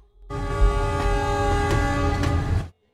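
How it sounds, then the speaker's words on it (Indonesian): A train horn blasts loudly for a couple of seconds over rumbling rail noise, then cuts off. "Baru saja Byron turun kereta api"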